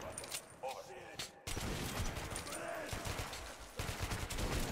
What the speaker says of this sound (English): Oh shit, I just wasted my bullets